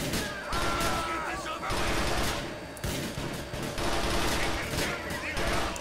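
Rapid bursts of gunfire from a biker shootout in GTA IV: The Lost and Damned, crackling loud and dense across the whole stretch with brief lulls, mixed with game noise and voices.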